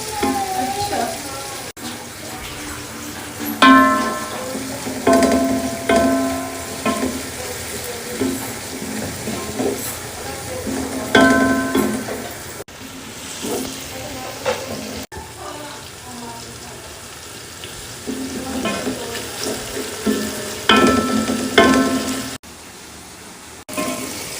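Biryani masala sizzling as it is stir-fried in a pan, a continuous hissing crackle with occasional scraping and stirring. It is steady and close, with brief pauses, and a voice speaks at times over it.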